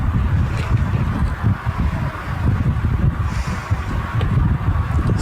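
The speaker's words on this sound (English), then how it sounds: "It is very windy." Strong wind buffets the microphone at an outdoor over-60s cricket World Cup match between the USA and Canada at Courtneypark, a steady low roar and rumble with gusty swells throughout and no speech.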